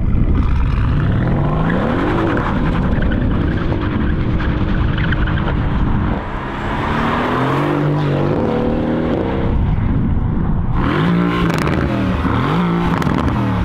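A Mercedes-AMG GT R engine revs hard, rising and falling through repeated loud acceleration sweeps with a brief dip midway, close and dominant throughout.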